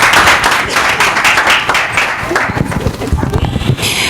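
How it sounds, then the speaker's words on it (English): Colleagues at an interview event applaud for a guest. Lively clapping is loud at first and then thins into scattered, uneven claps toward the end. "can I have a better round of applause for Dlamini?"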